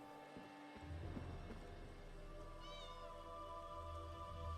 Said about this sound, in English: Whoa, it's a kitty! Oh, it's a cat!